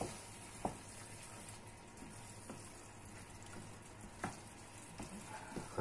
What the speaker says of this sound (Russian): теперь мы сюда кладем мясо, перемешаем это все